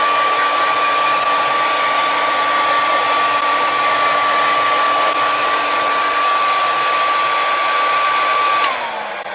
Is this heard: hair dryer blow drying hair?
yes